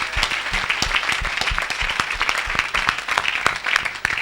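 Audience in a church hall applauding, a steady patter of many hands clapping at moderate volume, sustained without a break and with no talk over it.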